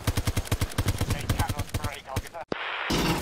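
Rapid automatic gunfire in a video game, a fast steady string of loud close shots that stops after about two seconds, followed by a brief sharp crack and a rushing noise.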